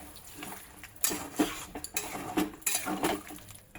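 Cooking mutton curry with potatoes, a pot on the stove gets water added, bringing metallic clinks and scrapes of a utensil against the pot in short bursts, close and fairly loud, with no talking.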